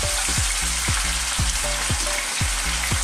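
Peppers and tomatoes fry in hot oil in a wok over high heat, giving a steady dense sizzle broken by repeated low scraping thumps from stirring, close and loud, with no talk.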